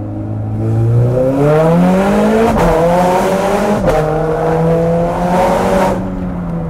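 A Ferrari 430 Scuderia with a Capristo exhaust revs loudly and steadily, pitch climbing and falling through gear changes, with brief tire squeal, close and alone without voices.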